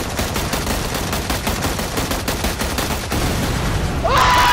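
Sustained automatic gunfire in the battle royale game PUBG, a loud, continuous rapid-fire burst that carries on without a break, with no talking over it.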